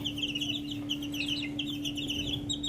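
Young gamefowl roosters, Boston Brownhead and White Kelso, cluck and chirp in a farm pen, with soft, repeated calls over a steady low hum and no speech.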